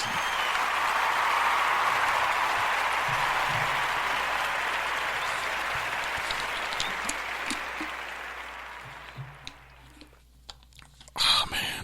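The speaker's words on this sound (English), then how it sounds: "this is another round of applause." An audience at a community conversation event gives a round of applause, loud dense clapping that gradually thins and fades into scattered claps and quiet, with a short burst of noise at the end.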